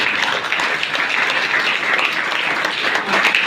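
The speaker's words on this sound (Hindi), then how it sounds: "एक बार जोरदार तालियों से बच्चे फिर से आप धन्यवाद करेंगे तालियां बजाएंगे।" Schoolchildren at a Lal Bahadur Shastri birth anniversary event applaud in a dense, continuous wash of clapping that stays steady and fairly loud throughout, with no voices standing out.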